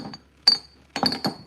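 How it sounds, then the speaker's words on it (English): Perfume glass bottles clink together in a few bright, sharp taps, one separate clink followed by a quick cluster of four ringing knocks, close and clear with no talk. "Bottles clinking together."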